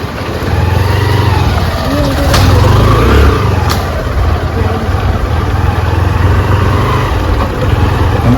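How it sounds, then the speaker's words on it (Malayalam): A motorcycle ridden on a rough off-road track near Kallar, its engine droning steadily up close with wind rumble and some talk over it. "ഞങ്ങൾ ബൈക്കിലാണ് പോയത് കേട്ടോ"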